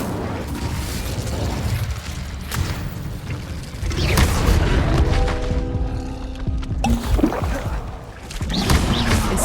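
A fire spell cast in the Hogwarts Legacy video game sets off booming, whooshing bursts of flame that swell loud, with a ringing magical tone in the middle and dense game combat sounds all around.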